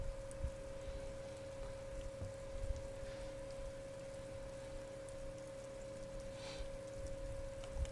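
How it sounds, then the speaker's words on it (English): Steady rain patters on a white and blue police motor carriage in Disco Elysium, a continuous soft hiss of droplets over a constant low hum, with a few slightly louder splashes. "Droplets of rain fall on the white on blue police livery of the motor carriage."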